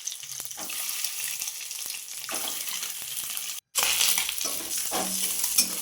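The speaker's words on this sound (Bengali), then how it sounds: "একটুখানি তেল দিয়ে সেদ্ধ ডিমগুলো একটু নুন আর হলুদ মেখে আগেই রাখা ছিল, মিডিয়াম আঁচে একটু ভাজা করে তুলে রাখতে হবে।" Boiled eggs coated in salt and turmeric fry in a little oil over medium heat, a continuous nearby sizzle with stirring noises, broken by a brief silent cut midway before resuming louder.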